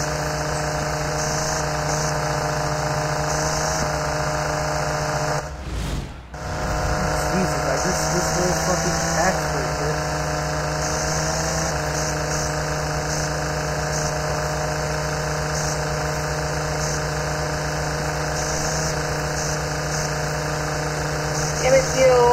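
A lawn mower engine idles in a steady, rumbling drone close by, holding a constant mid-pitched hum with a brief dip partway through before carrying on unchanged.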